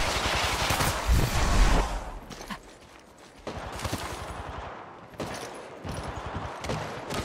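Gunfire in Apex Legends Mobile on the World's Edge map: loud, rapid bursts of shots, strongest at the start, then fading to scattered volleys against background game noise.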